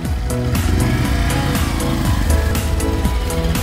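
A motorcycle engine runs loudly and continuously close by, its rough, throbbing note rising and falling slightly as it is revved.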